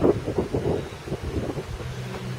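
Wind gusts buffet a microphone outdoors beside a welding table, producing low, uneven rumbling bursts that rise and fall, close to the mic and with no talking.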